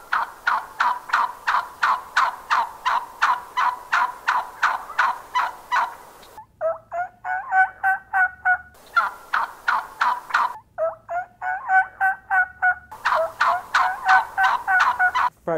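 A person imitates a female turkey with their mouth, giving loud, close runs of quick rhythmic yelps in several bursts, broken by shorter, softer clucking calls.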